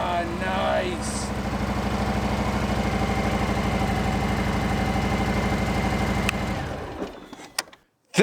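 A Harley-Davidson touring motorcycle engine, fitted with a newly replaced battery, starts and settles into a loud, steady, close-up idle with a rhythmic low rumble before cutting off near the end.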